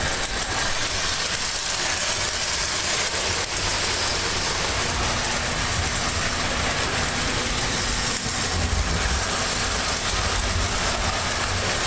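A steady mechanical whir and rattle runs continuously at close range from a Lionel prewar toy electric train circling its track, with a faint hum underneath.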